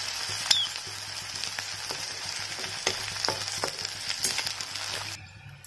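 Onions sizzle steadily in a pan for paneer masala, a continuous close frying hiss broken by scattered sharp crackles and stirring scrapes, with no talk, ending in a quieter moment.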